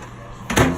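A microwave door closes with a short, dull thud following a moment of quiet kitchen background, close and brief.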